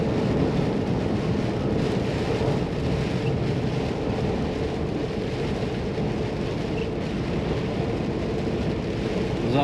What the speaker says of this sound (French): Vous entendez la flotte un peu tomber sur le pare-brise là?